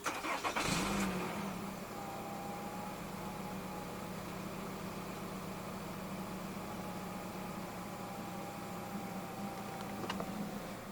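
A 2019 Nissan X-Trail 2.5 4WD starts by push button: a brief starter crank and catch lasting about a second, then a low, steady idle hum that carries on quietly with no talk.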